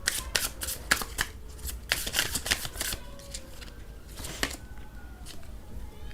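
Tarot cards being shuffled by hand: a run of quick, crisp riffling flutters with short pauses, close and fairly quiet, with no speech over them.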